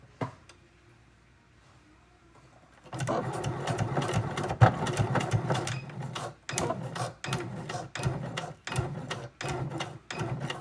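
A sewing machine starts after a quiet pause and runs in bursts, stitching through many layers of strap. The motor hums and the needle thumps rhythmically, close and loud, with short stops between runs and no voices.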